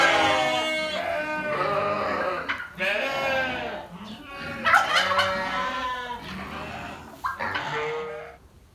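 Sheep bleating in a barn where ducks and chickens also range, several wavering calls overlapping close by, with a person talking over them.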